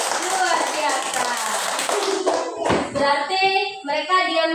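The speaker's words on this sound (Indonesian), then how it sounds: "Oke, berikan tepuk tangan." Classroom applause from students, a burst of quick claps that fades into talking and children's voices, fairly close and mixed with speech throughout.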